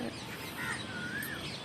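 Birds call faintly in a green natural area, thin distant chirps and a drawn-out whistle over low steady background noise.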